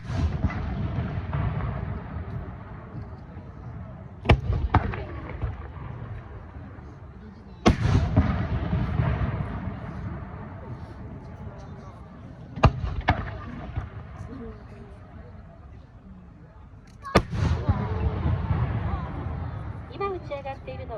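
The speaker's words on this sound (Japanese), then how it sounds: "今打ち上がっているのは点滅という花火です。" Fireworks bursting over the Aioi Peron festival in Hyogo, with loud sharp booms every few seconds, each followed by crackling and a long rumbling tail as the shells open one after another.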